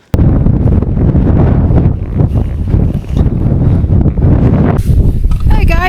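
Strong gusting wind roars across a mountain summit ridge on the Isle of Arran, buffeting the microphone loudly and continuously with heavy low rumble.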